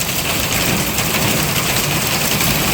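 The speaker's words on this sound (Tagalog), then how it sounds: "We have a hailstorm." A hailstorm with heavy rain pounds hard and continuously, close and loud, a dense hiss and clatter with no gaps.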